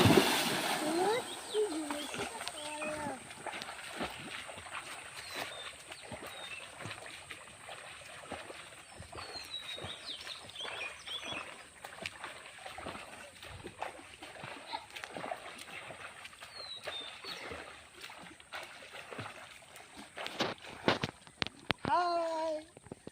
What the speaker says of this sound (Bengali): আমি সাঁতার কাটছি, চলো দেখি কি হয়।